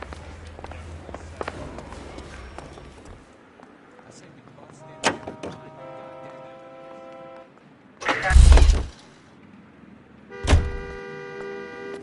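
A car in the video game L.A. Noire: a door thuds shut, the engine starts with a loud low rumble around the middle, and another heavy thump follows, with a voice talking early on.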